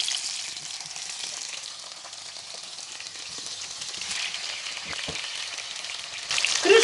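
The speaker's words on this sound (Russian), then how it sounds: "Крышкой не закрываем, жарим при открытой сковороде, чтобы обжарилось все хорошо со всех сторон." Zucchini slices fry in a single layer in an uncovered pan over the highest heat, giving a steady close crackling sizzle that swells louder near the end.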